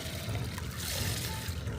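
Water poured from a container onto 21-17-17 fertilizer granules to soak them, making a soft, steady trickle and splash close by with faint background noise.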